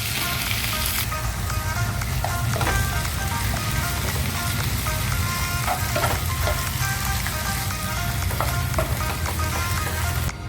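Chicken pieces fry with spice powders in a pan for a Munnar-style chicken curry, giving a steady, loud broadband sizzle throughout with occasional stirring scrapes and no talk.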